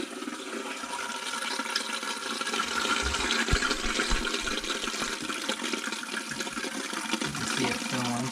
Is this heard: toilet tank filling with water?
yes